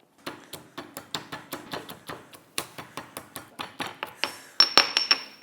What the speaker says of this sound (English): Any chance I get to use my pestle and mortar, I love.